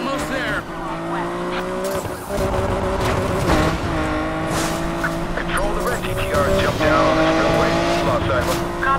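Race cars roaring through a chase in the video game Need for Speed Payback, engines revving and shifting with tires squealing and skidding, loud and continuous, with radio-style voices talking over the action.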